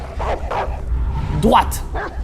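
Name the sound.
dog barking in the video game Beyond Two Souls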